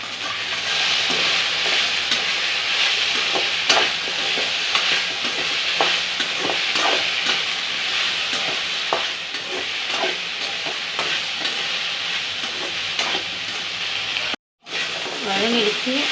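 Vegetables sautéing in a pan for drumstick-leaf sambar make a steady close sizzle, with repeated stirring scrapes throughout and a brief dropout near the end.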